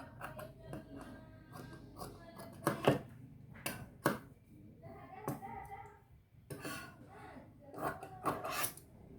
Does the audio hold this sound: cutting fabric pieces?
yes